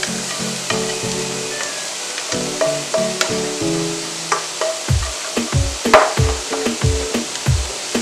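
Vegetables sizzling in a hot pan as they are stir-fried with diced tofu, a continuous frying hiss punctuated by repeated scraping and stirring knocks from a utensil, close and fairly loud with no talk.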